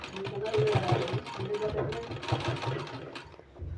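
A sewing machine stitches palazzo pant fabric in a quick mechanical rattle with uneven bursts. It is close and clear, and a voice talks over it.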